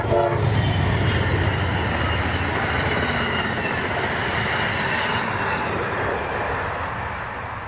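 An Amtrak train rushes past on the Northeast Corridor, a loud continuous rumble of wheels and cars with a short horn note at the start, slowly easing off toward the end.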